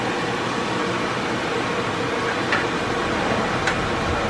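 A Rigid AM6225 blower fan runs on speed setting two, giving a steady, even broadband whoosh of moving air at close range, with a couple of faint ticks partway through and no talking.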